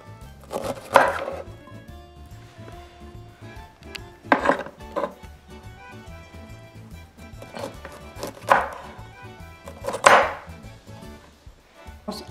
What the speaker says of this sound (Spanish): Y le vamos a cortar esta parte, la de aquí, el tallo